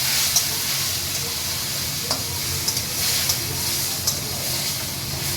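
Spiced masala fries in a pan with a little water, giving a steady bright sizzle and hiss at close range, broken by a few light clicks of stirring.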